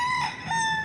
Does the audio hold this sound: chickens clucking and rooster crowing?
yes